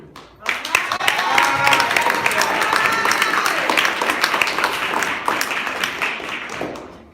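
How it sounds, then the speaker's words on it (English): Audience at a National Poetry Month closing reception in the Paterson Museum breaks into warm applause welcoming a performer, clapping swelling quickly after a brief quiet start, holding strong with cheers and voices, then tapering at the end. "Give a warm round of applause for my man"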